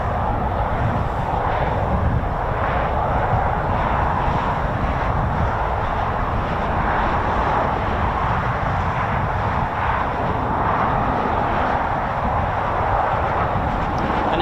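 Red Arrows jets training in formation fill the air with a steady, loud, broadband jet roar that holds for the whole stretch, rumbling and swelling slightly without letting up, and no one speaks over it.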